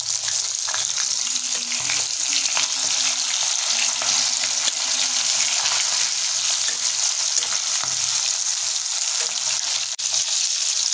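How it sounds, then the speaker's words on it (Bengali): Pabda fish pieces fry in hot oil in a pan and are turned with a spatula, giving a loud, steady crackling sizzle that runs unbroken with faint scraping touches. "মাছগুলোর একদিক ভাজা গেছে, আমরা খুন্তিতে ভালো উল্টে নেব।"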